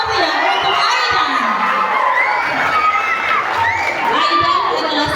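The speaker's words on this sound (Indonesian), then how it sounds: "Mari kita berikan aplaus yang meriah untuk Aidan." A school crowd cheers a graduating sixth-grade student at an elementary school farewell, with loud children's shouts, whoops and crowd noise sustained throughout, close and lively.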